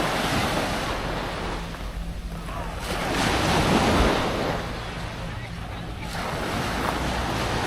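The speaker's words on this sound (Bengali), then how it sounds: "ঢেউ শব্দ শোনা যাচ্ছে" Ocean surf washes steadily onto the beach at Jebudo Island, Korea, where people are swimming, a continuous roar that swells and eases, with some wind buffeting the microphone.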